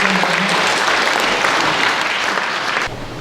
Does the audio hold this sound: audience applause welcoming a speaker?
yes